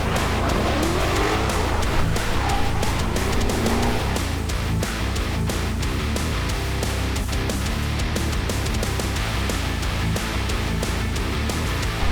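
Drift cars at a drifting competition in Odesa roar with revving engines and screeching tire squeals, a loud continuous din with the shriek of skidding rubber throughout.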